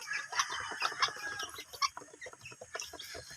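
Rhode Island Red chicks peeping and chirping close by, a busy run of short, bright calls in quick, uneven bursts.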